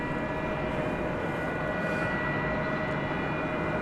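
A Spirit Airlines jet from Atlanta lands at DFW Airport at night, a steady, distant engine roar and whine that holds evenly with no voices.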